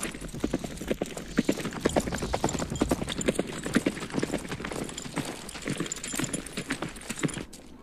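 Horse hooves clip-clop in a quick, steady rhythm on a hard surface, close by, continuing for several seconds before fading slightly at the end.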